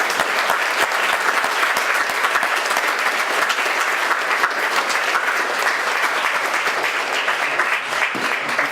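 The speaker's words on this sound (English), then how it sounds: "And send her out with a round of applause." A town hall audience applauds loudly and continuously, a thick, even wash of many hands clapping with no pauses.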